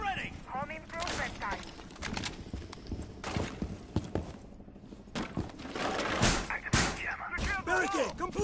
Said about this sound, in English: I told you you're gonna hear gunshots. I just shot right now.